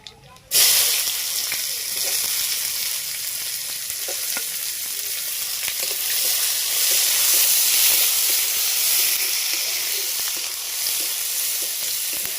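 Chopped onion sizzling steadily in hot oil with bay leaf and black cumin in a pan where fish has just been fried, a loud continuous crackle and hiss that starts abruptly and keeps going.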